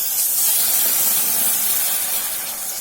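Milk poured into cooked flour in a pan for a basic cheese sauce, giving a steady close sizzling hiss that holds evenly throughout with no talk.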